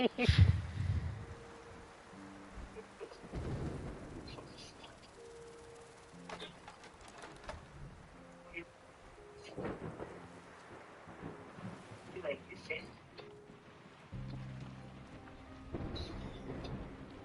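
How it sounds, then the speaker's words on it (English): Thunderstorm in the video game Diluvian Winds: rolling thunder bursts and a steady rain wash under game music tones, with occasional louder rumbles throughout. "The storm rages."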